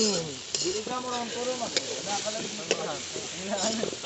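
Potatoes frying in a pan at an Assamese agricultural resort, a steady close sizzle with occasional stirring clinks, while voices chatter and call out over the cooking.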